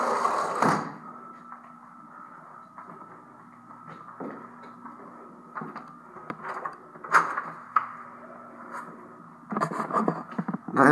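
A one-car garage door rumbles and rattles steadily as it opens, with a low mechanical hum, a few clunks along the way and a louder clatter near the end.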